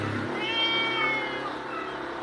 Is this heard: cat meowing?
yes